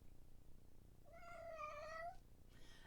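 A single drawn-out, rising cat meow sounds faintly over low background hiss, lasting about a second.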